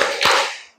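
A classroom group does a short rhythmic clap, the Indonesian "tepuk fokus" chant clap, with a sharp burst of claps landing together, loud and close, then fading quickly.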